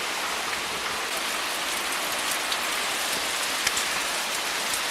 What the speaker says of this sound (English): The wind is actually blowing the rain from the roof back up onto me.